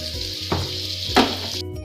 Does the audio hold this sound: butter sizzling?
yes